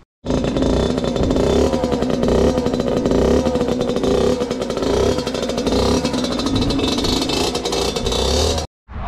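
A 50 cc moped scooter engine runs loud and close, a buzzing, rattly two-stroke drone with slight revving surges, then cuts out abruptly near the end.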